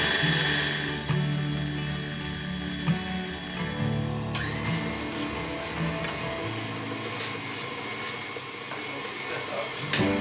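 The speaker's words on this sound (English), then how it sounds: "I'm just whisking up the cookie mix." An electric whisk whirs steadily while mixing cookie dough, a loud continuous motor drone close by that shifts pitch slightly partway through and runs alone without talk.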